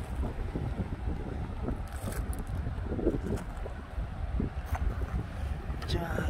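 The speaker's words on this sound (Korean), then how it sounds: "바람이 지금 많이 불고 있어요. 오, 바람이 점점 세게 부네요." Strong wind gusts buffet the microphone outdoors on a rocky stone-hunting site, a constant rumbling roar with a person talking over it.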